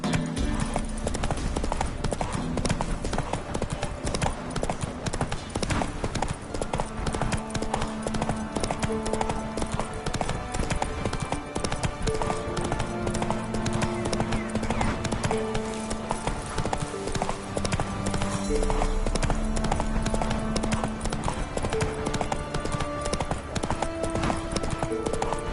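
Horse hooves in The Witcher 3 video game, a steady rhythmic clip-clop of a galloping and trotting horse heard throughout, over game music and ambient sound.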